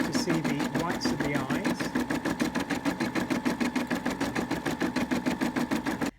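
A Brother M280D Disney sewing and embroidery machine stitches steadily, with a fast, even needle rhythm that stays loud and close from start to finish and stops abruptly at the very end.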